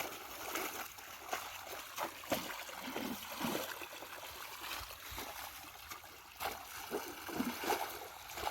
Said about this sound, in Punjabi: ਆਵਾਜ਼ ਆ ਰਹੀ ਹੋਣੀ ਤੁਹਾਨੂੰ ਪਾਣੀ ਤੇ ਲੰਘਣ ਦੀ